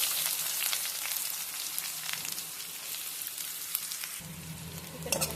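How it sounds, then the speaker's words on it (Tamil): Chopped onions dropped into hot oil with mustard seeds and curry leaves for beetroot poriyal, a loud hissing sizzle with scattered pops and crackles that dips, then swells again as the onions go in near the end. "இப்போ நம்ம கட் பண்ணி வச்சுருக்க வெங்காயம் ஆட் பண்ணிக்கலாம்."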